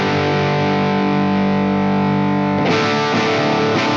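An electric guitar chord rings through a Wampler TCD overdrive pedal, sustaining thick and distorted before a second strummed chord cuts in and rings on.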